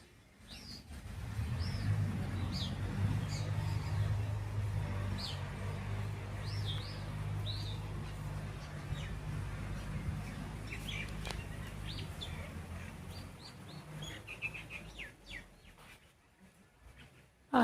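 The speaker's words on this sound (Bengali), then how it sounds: "পাখি ডাকছে এই গাছে, কিচিরমিচির কিচিরমিচির।" Birds chirp and tweet in a tree in a rural village garden, with scattered faint calls drifting over a steady low outdoor rumble for the whole stretch.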